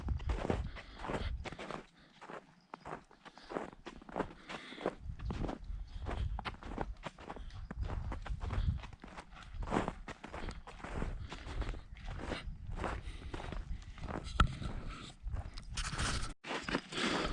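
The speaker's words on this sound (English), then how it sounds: "All I can hear is just Erie and I walking" Footsteps of two hikers walking on a snowy trail in the Pikes Peak region, a steady, close crunching rhythm of boots in snow that continues throughout.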